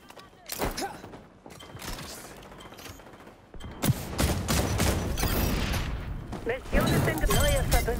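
Gunfire in the online shooter XDefiant, bursts of rapid shots and sharp cracks with mechanical clatter, growing louder and denser partway through, with a player talking over the action.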